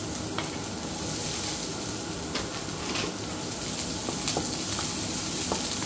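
Garlic and onion sizzle steadily in a hot pan while being stirred, a continuous frying hiss with scattered small scraping clicks from the utensil, close and fairly loud throughout.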